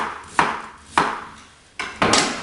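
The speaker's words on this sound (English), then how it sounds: "I'm going to cut it into slices." A knife slicing tuna steak on a cutting board, four crisp cuts spaced about half a second apart, each a sharp close thunk that fades quickly, with no voices.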